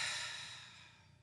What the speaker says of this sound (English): three audible exhales.